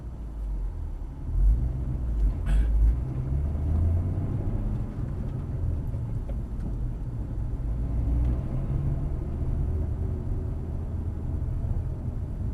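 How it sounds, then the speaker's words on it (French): A 340-horsepower car pulls away in first gear, its engine a deep, steady rumble that grows slightly louder, with a brief sharp knock early on. "Première, tu vas en souplesse sur l'accélérateur et puis on va aller voir ce que ça donne."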